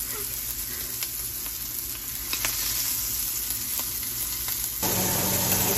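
Sausage sizzles steadily in a pan while it cooks for biscuits with sausage, a continuous close frying hiss that grows a little louder near the end, with no talking.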